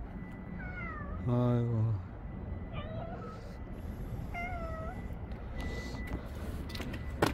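Several hungry stray cats being fed dry food outdoors meow repeatedly, short rising and falling cries spread across the scene, with a brief rattling scrape midway and a person speaking quietly.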